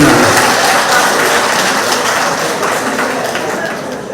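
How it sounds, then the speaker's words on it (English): Retirees' association audience giving a round of applause for a guest's son at a monthly meeting, a loud, even burst of many hands clapping that tapers slightly toward the end. "Give him a round of applause."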